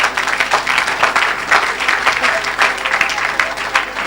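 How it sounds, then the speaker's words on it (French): A church congregation at an evangelical deliverance service applauds for Jesus, dense sustained clapping and cheering filling the room without a break, with voices mixed into the crowd noise. "acclamez pour Jésus"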